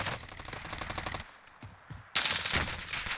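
Rapid bursts of automatic gunfire in the video game Warzone, a loud close stream of shots that drops out briefly, then returns with a sharp, dense burst.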